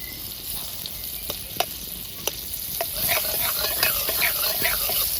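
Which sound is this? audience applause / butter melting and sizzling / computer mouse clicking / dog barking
butter melting and sizzling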